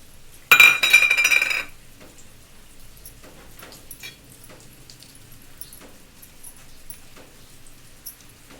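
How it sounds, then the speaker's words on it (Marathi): Crushed peanuts, potatoes and sago are stirred together for khichdi, starting with a loud burst of clinking against a dish for about a second, followed by quieter scattered scrapes and taps of the spoon. "आपण इथे शेंगदाण्याचा कूट, बटाटे आणि साबुदाणे हे पूर्ण मिक्स करून घेते"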